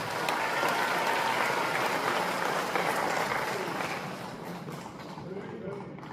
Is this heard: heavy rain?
no